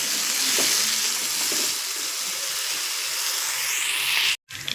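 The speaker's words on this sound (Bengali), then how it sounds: "দেখো আমার আলু ভাজা হচ্ছে।" Potatoes fry in a pan with a loud, steady sizzle and crackle that fills the clip and stops briefly near the end before resuming.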